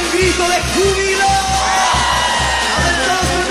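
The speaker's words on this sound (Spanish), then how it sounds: "Grito de júbilo." A church congregation shouts and whoops loudly with joy during a Spanish-language worship song led by a live band, a dense crowd roar riding over steady, rhythmic low beats throughout.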